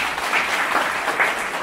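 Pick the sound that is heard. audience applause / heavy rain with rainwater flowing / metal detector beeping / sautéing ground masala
audience applause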